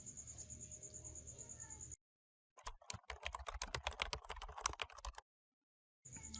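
Rapid typing on a computer keyboard while copying and pasting code gives a dense run of close clicks, with a steady insect-like hum before and after.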